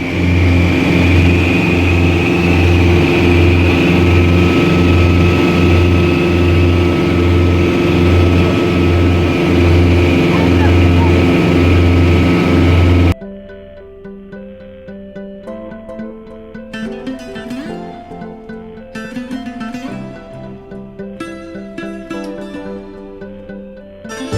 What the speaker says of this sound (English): for noise abatement we can reduce the manifold pressures to 25 inches and the propeller speeds to 2500 RPM